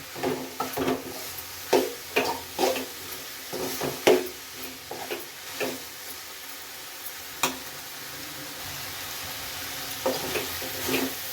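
Eggplant chutney ingredients fry in a pan with a steady sizzle, broken by repeated scraping stir strokes that come close and fairly loud, without any talk.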